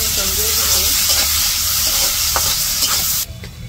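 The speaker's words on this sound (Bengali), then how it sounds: "এই জায়গায় পেঁয়াজ, কাঁচামরিচ আর রসুন কেটে রাখছে, এগুলো এখন তেলে দিয়ে দিব।" Chopped onion, green chili and garlic fry loudly in oil, a dense close sizzle with occasional stirring clinks that drops off sharply near the end.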